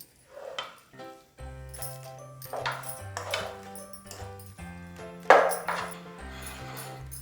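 Jaggery kalakand is scraped from a pan into a bowl, with sharp metallic clinks and ringing scrapes of a utensil against metal, arriving in uneven bursts with quiet gaps.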